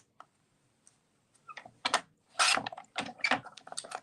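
A paper trimmer slices card stock in half, heard as close, dry clicks and a quick rasping sweep of the blade, with short scraping and sliding bursts toward the end.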